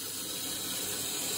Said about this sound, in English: Allow water to enter the system